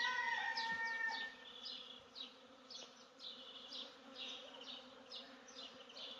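Bees buzz around flowers outdoors on a nature day, a close, steady drone rising and falling as they move between blooms. A few soft, distant bird calls are faintly mixed in.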